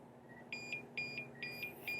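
TOPTES RT-389 leak detector sounding its alarm while checking an A/C system: repeated pairs of short, shrill electronic beeps in a steady rhythm, close by over a low hum.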